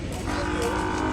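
An Ongole breed calf lows close by, a steady sustained moo filling the short moment with no voices over it.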